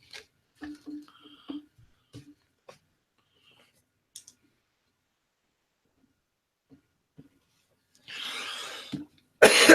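A person coughs while clearing out congestion. Mostly quiet with small clicks and rustles, then a couple of harsh bursts toward the end.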